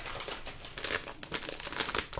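Waxing tape crinkling and rustling as it is handled close up during an eyebrow waxing session, with a steady run of crisp crackles and tearing-like scratches throughout.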